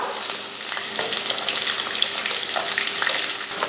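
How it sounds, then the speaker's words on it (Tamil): Chana dal roasting in hot oil with popped mustard seeds, heard as a dense, steady, close sizzle with faint crackles and a few light stirring touches over a brief stretch. "கடுகு பொரிஞ்சதும் கொஞ்சம் கடலைப்பருப்பு கடலைப்பருப்பு வந்து ரொம்ப கருக விடாமல் வறுத்துக்கணும்"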